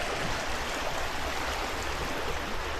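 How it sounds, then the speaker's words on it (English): A fast-flowing river with small rapids, a dense, steady broadband rush close by, loud and unbroken, with no voices. "it looks like it's moving fairly fast. Got a little bit of rapids over there"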